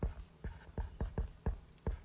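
Handwriting notes with a pen on paper or a board: a series of about seven quick, scratchy strokes in an uneven rhythm, close and fairly clear over a quiet background.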